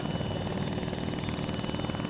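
A helicopter sitting idle in ARMA 3 gives off a steady, close rotor drone and engine hum that holds evenly throughout with no talk.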